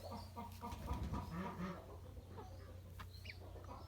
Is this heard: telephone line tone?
no